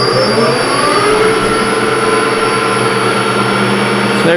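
A lathe-type machine turning at around 600 to 700 RPM cuts 1 inch mild steel with a carbide tool, giving a loud, steady whirring hum with a sustained high whine and no voices.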